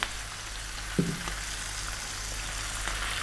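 Chopped onion sizzles in hot oil in a pan of green beans for a vegan stew, a steady bright frying hiss with a quick knock of a utensil early on.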